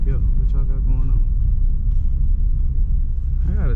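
A Chevrolet S10 drift truck labors up a hill, its engine a steady low rumble close by, with someone talking over it throughout.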